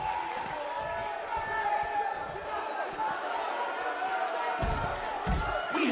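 A sold-out arena crowd in the WWE 2K19 wrestling video game gives off a steady, distant roar of cheering and chatter, with a few thumps near the end and a voice speaking over it.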